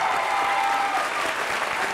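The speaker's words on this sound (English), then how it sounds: "Applaud for yourselves." Audience applause fills a convention hall during a Star Trek fan panel in Toronto, a steady, dense wash of clapping from a large crowd that holds evenly loud throughout with no speech on top.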